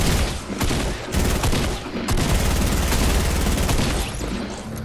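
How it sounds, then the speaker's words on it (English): Rapid gunfire from the Fortnite video game, a dense continuous barrage of shots and impacts lasting the whole stretch with no talk over it. "You getting shot from behind."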